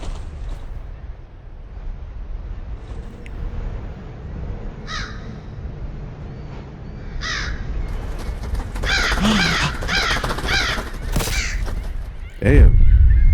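Crows caw in the video game The Lightkeeper, several harsh calls spread through the clip at mid distance, growing denser toward the end before a sudden loud low thud.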